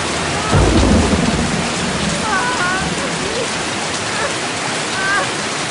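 A thunderstorm with steady heavy rain: a low thunder rumble swells near the start and then fades under a constant, loud downpour that continues alone to the end.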